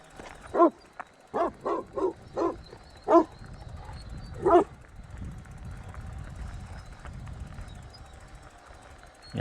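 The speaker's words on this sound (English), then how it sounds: "to watch out for the dogs" Several sharp dog barks come in a quick cluster at the start, then one more later, fading into low outdoor rumble in the Sierra Nevada.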